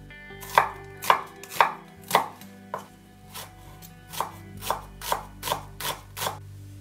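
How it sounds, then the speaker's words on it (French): An onion sliced with a knife on a cutting board while making shrimp spring rolls, about a dozen crisp, evenly spaced chops heard up close and alone. "J'émince un oignon."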